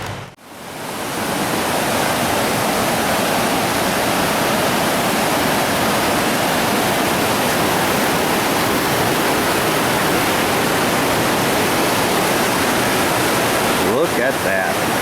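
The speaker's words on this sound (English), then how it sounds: "So we'll go down here, take a look at the creek and see what there is to see" Creek water rushing steadily in the Smoky Mountains, a loud, continuous broadband wash of flowing water that fills the whole stretch alone, with no talk over it.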